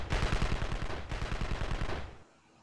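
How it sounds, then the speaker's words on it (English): Rapid automatic gunfire from base turret guns in the video game Evil Genius, a dense run of close, loud shots that stops abruptly after about two seconds and leaves a faint tail. "Stop firing on my guns."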